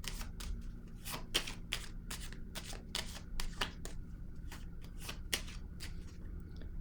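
Tarot cards laid down and shuffled on a table during a reading, giving repeated soft slapping and riffling card sounds, close and steady, with no voices.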